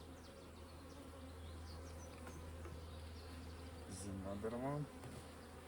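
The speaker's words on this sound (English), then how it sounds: "you can see how bees are agitated. See, they're warning me." Agitated honey bees buzz around an open hive in a queen-rearing setup, a constant busy drone with passing louder insects close by; someone speaks briefly near the end over the buzzing.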